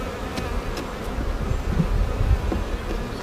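Honeybees buzzing around an open hive during a spring inspection, a dense continuous hum close by with individual bees droning past now and then.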